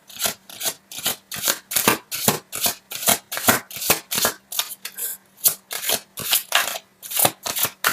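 Tarot cards being shuffled by hand, a rapid, regular series of crisp riffling swishes and slaps, close and fairly loud, continuing without pause.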